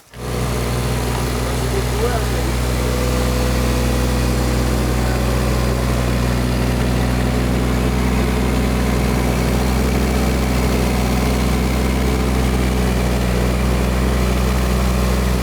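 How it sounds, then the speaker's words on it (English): Heavy excavator engine idling indoors inside a stone-floored mountain house under construction, a steady loud low rumble with constant harmonic drone throughout, no pauses. "We're finally getting in an excavator with a real jackhammer to handle this last room because it is just solid stone."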